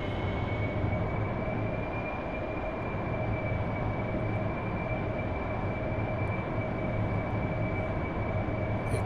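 An AV-8B Harrier jet climbs away after takeoff from the amphibious assault ship LHA-1 Tarawa in the DCS flight simulator, with a loud continuous engine roar and a steady high whine holding for the whole stretch.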